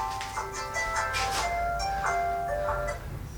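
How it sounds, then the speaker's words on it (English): A short melodic alarm tone plays a repeating electronic jingle of bright beeping notes, over a low background hum. "Sorry, that's my alarm."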